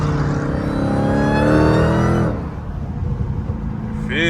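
A loud Dodge Hellcat revs hard in traffic, its engine note rising in pitch under heavy throttle for about two seconds, then dropping sharply off throttle to a lower rumble before building again.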